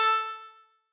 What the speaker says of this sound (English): Breathe in through 3 and bend the note to produce the A twice